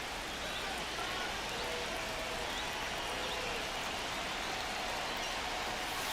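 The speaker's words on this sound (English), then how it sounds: "This rain is not letting up." Steady rain falls on a baseball field in MLB The Show 25, a continuous even hiss of drops filling the background without pause and with no voices heard.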